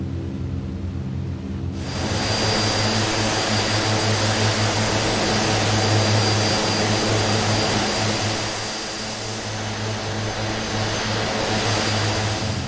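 A DHC-6 Twin Otter in a flight simulator cruises with a steady, loud twin-turboprop drone and a high whine, constant throughout without talk.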